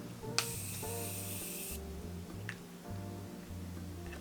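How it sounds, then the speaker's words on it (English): One long, close hiss of strawberry-scented Morphe makeup setting spray being misted lasts over a second, followed by quiet handling sounds. "I'm gonna spray the setting spray first, actually. Let's do the mist."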